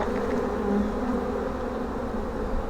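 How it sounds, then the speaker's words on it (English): Honeybees on a hive frame, close and dense, make a steady, continuous buzzing drone that holds at an even loudness with no talking. "I'm going to shake these bees off"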